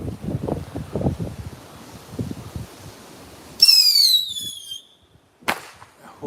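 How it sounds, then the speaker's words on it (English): Bottle rocket fireworks are launched into strong hurricane gusts: after rumbling, buffeting wind, a loud whistling shriek glides downward, fades out, and ends in one sharp crack. "Now we know what bottle rockets do in the wind."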